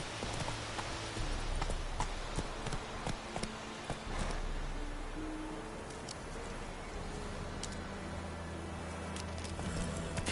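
Roach the horse from Witcher 3 galloping, a steady run of hoof clip-clops over continuous game ambience and low drones throughout.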